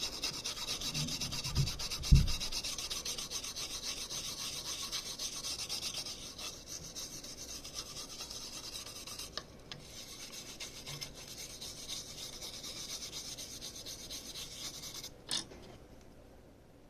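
A toothbrush dipped in alcohol scrubs the contacts of an NES game cartridge in a steady, quiet rasping rub lasting throughout, with a couple of louder knocks near the start and no talking.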